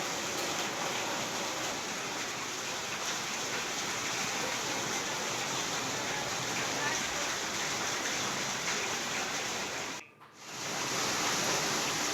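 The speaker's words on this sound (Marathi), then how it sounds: "वादळी वाऱ्यासह अवकाळी पावसाने हजेरी लावलेली आहे।" Heavy unseasonal rain with wind makes a dense, steady roaring wash of noise, continuous and fairly loud, broken only by a brief dip near the end.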